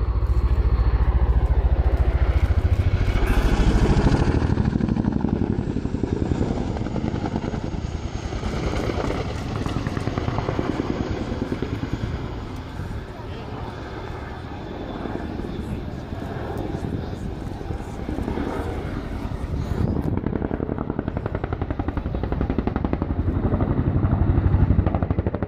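An RAF Chinook helicopter performs fast display manoeuvres at the Yeovilton air day, its heavy rotor and engine roar rising and falling as it passes, with an announcer talking over it.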